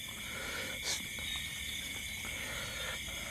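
Rainy-season insects trill steadily outdoors at dusk in rural Thailand, a continuous high buzzing chorus, faint and distant, running unbroken without talk.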